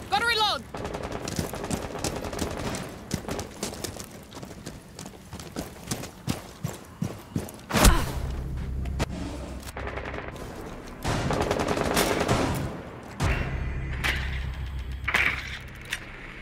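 Bursts of automatic and single-shot gunfire from a Rainbow Six Siege bomb-defusal match ring out in rapid volleys, joined by heavy low thuds and game voice callouts, with loud sustained rumbling stretches in the second half.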